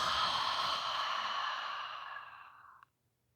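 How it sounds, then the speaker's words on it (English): A person lets out a long, breathy sigh as a releasing exhale at the end of a yoga flow, steady and close, fading off before stopping abruptly near the end. "We're going to sigh it out to let it go."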